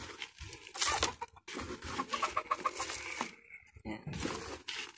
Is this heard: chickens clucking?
yes